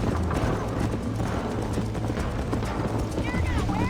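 Rapid galloping horse hoofbeats pound continuously, loud and close, mixed with game sound effects and voices in the video game Red Dead Redemption.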